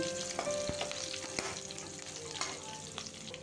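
Spices sizzle and crackle steadily in hot oil in a pan while cooking egg masala curry, with occasional stirring scrapes over the continuous frying hiss.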